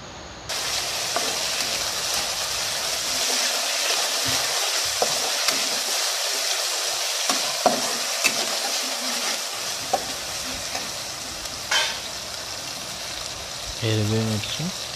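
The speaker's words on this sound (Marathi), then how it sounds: "आता यामध्ये आपण अद्रक लसूणची पेस्ट टाकूया" Ginger garlic paste hitting browned onions in a pan, a steady sizzle with scraping stirs and a few clanks of the spoon, fairly close, and a short burst of louder sizzling toward the end.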